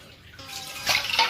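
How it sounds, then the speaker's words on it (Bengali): Water splashes into a cooking pot, starting quietly and then swelling into a brief, fuller gush near the end, with no talking. "একটু খানিকটা পানি দেবো"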